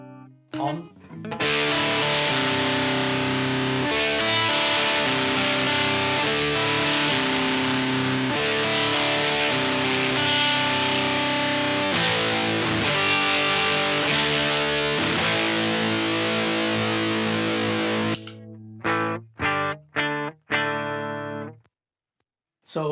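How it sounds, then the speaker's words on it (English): Electric guitar played through an old distortion pedal turned all the way up, heard alone: a long sustained run of thick, saturated chords and notes, ending in several short, choppy stabs with brief gaps between them. "So even with the distortion cranked up, it's still nice note definition."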